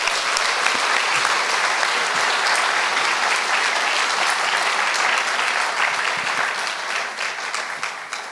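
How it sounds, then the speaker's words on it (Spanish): An audience at a book launch claps steadily in a dense, sustained round of applause that tapers slightly toward the end. "Quiero que le demos un aplauso a"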